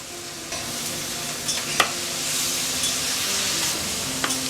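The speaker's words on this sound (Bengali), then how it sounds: "শুটকি মাছটা আমার পাশের চুলাই হচ্ছে" Dried fish (shutki) cooking on a stovetop, a continuous close sizzle with occasional stirring scrapes and light clinks, no talking.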